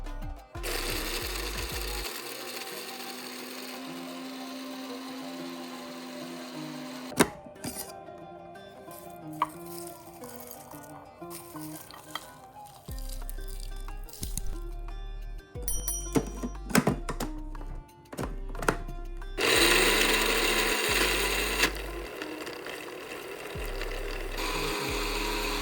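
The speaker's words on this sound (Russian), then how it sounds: "как специи остынут, отправляем их в кофемолку" A coffee grinder grinding toasted spices in bursts, a loud whirring buzz that runs, stops and starts again, with clunks and rattles between the runs.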